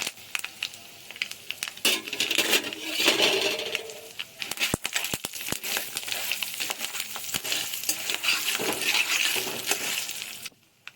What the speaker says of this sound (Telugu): పోపు దినుసుల్ని లైట్గా ఫ్రై చేసుకోవాలి